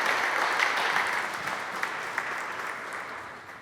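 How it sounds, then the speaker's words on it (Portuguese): A Mass congregation gives a steady round of applause for Jesus during a homily, dense and even at first and slowly tapering off. "Dá uma salva de palmas para Jesus"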